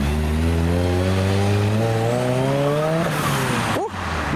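A Ford Escort accelerates away at a wet car meet. The engine note climbs steadily through the revs, loud and close, then a quick gear change and a throttle blip follow near the end.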